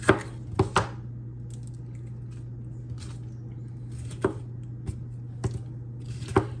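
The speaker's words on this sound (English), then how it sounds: "Funny shaped green pepper. I'm just going to make slices." A knife slicing a green pepper on a cutting board: sharp, crisp cuts come in irregular clusters, close and clear, with quiet pauses between strokes and a low steady hum underneath.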